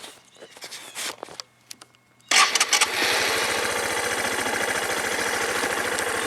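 A Suzuki VanVan motorcycle engine starts after a quiet stretch, catching abruptly and settling into a steady, close, rhythmic idle that carries on to the end.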